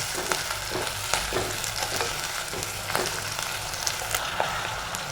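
Onions and green chilies fry in hot oil in a home kitchen, giving a steady, close sizzle with repeated clicks and scrapes of stirring and no talk.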